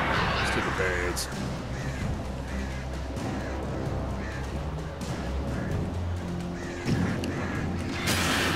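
Crows caw and flap in a swarm attack in the video game Alan Wake, harsh repeated calls scattered over several seconds amid game effects, with someone talking over them.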